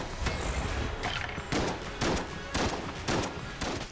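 Rapid gunfire from the video game Enter the Gungeon, a steady series of about eight loud, punchy shots spaced roughly half a second apart over a constant noisy background.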